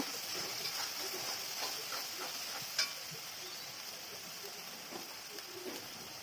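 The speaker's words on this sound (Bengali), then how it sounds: "মশলাগুলো দিয়ে দিলাম এবং সব সম্পূর্ণটা এখন ভালো করে মিশিয়ে নেব।" Chicken stirred in a pan with turmeric, salt and dried chilli powder for chicken kosha, a soft continuous sizzle with faint scraping stirs and one brief clack, quiet and close, no talk.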